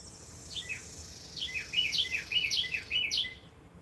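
Small birds outdoors on a morning give bright, quick chirps in repeated short bursts, several overlapping, over a constant low background hiss. No one speaks.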